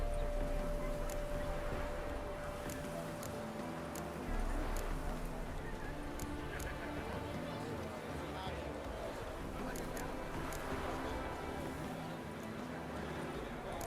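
Horse hooves clip-clop in The Witcher 3, a steady rhythmic patter of hoofbeats running under game dialogue and ambient sound throughout.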